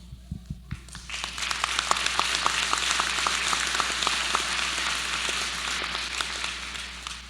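Sustained audience applause at a spring business school graduation convocation, a few scattered claps swelling into dense, steady clapping from a large crowd that holds evenly to the end.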